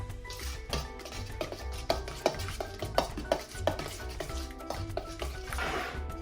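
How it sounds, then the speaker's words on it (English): Stirring a pizza topping mixture with added salt: a series of soft scraping, clinking strokes against a pot or bowl, steady and close, with faint background hum and no talk. "So, now we can stir"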